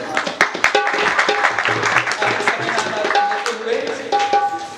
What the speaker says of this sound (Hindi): एक बार आप भरपूर तालियों में